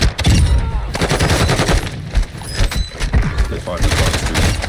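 Automatic gunfire in Call of Duty Warzone on the Vondel map, rapid bursts of shots from a firefight across the street, loud and close with rhythmic rattling and brief pauses, a voice speaking over parts of it.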